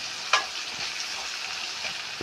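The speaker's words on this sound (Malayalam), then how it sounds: "നമ്മൾ വെച്ച വെണ്ടക്കായ നന്നായിട്ട് ഫ്രൈ ആയി" Okra fries in a pan for a curry, giving a soft, continuous sizzle up close with one brief clink of a utensil near the start; no voices.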